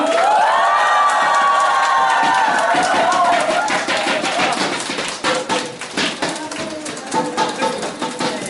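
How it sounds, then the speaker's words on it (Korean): A crowd claps and cheers at a candidate-support press event held outside Gumi City Hall, with voices rising together at first and scattered, uneven handclaps carrying on close by. "우리 저분들 큰 박수 주셨으면 좋겠습니다"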